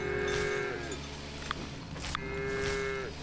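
A cow in the farming game Farm Together 2 gives two long, drawn-out moos separated by a short pause, clear and fairly close over a soft background with faint clicks.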